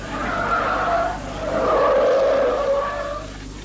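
A Skoda car taking a slalom course at 60 km/h, its tires squealing and skidding in two long swelling waves as the car swings from side to side, loud and close, no speech.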